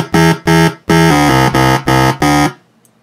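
A bright, buzzy single-oscillator synth patch in Logic plays seven short, evenly spaced notes at the same pitch, then cuts off, leaving near silence.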